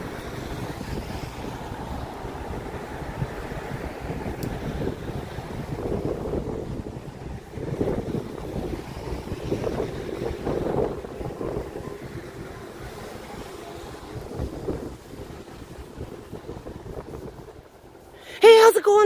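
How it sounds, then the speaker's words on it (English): Strong wind buffets the microphone during a winter night walk through Toronto, a continuous low rumbling roar that swells and eases, with a brief louder burst at the end. "If I was walking east, there wouldn't be so much wind, but I'm walking west"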